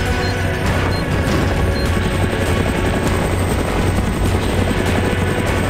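A helicopter in the video game Fahrenheit produces a loud, continuous rotor roar that fills the scene without pause, with no voices over it.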